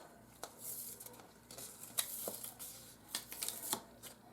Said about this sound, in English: Let's first go ahead and take this one off our card mat.